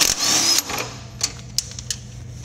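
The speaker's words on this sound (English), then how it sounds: "Now using a 22 millimeter socket on an impact gun," An impact gun with a 22 mm socket removes a castle nut from a ball joint knuckle, a loud continuous whirring rattle for about half a second, then several short sharp bursts in quick succession.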